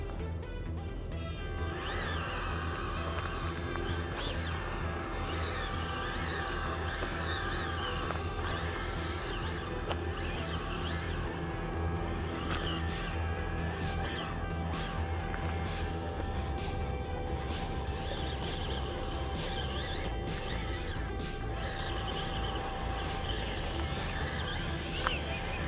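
A RocHobby Katana ROC003RTR RC crawler with a Toyota Land Cruiser body grinds up an outdoor trail hill, its steady motor whine running continuously through scattered sharp clacks and crunches of tires and chassis on rock.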